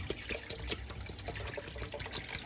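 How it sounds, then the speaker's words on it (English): Water is poured into a stew pot of simmering menudo, a soft, steady trickle and splash heard fairly quietly throughout, with no voices over it. "We're ready to add some more water now"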